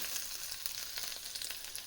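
Hot tempering oil crackles and sizzles continuously as it is poured over cooked mustard greens, with quick popping bursts over a steady hiss, close up and fairly quiet.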